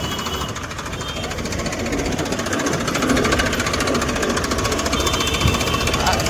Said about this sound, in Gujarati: ટ્રેક્ટર રિવર્સ મારી દીધું